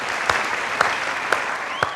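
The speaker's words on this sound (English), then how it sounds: "Can we give them a big round of applause?" Studio audience applause at a televised school quiz competition, a steady dense clapping wash with a few louder claps standing out, fairly close and with no voices over it.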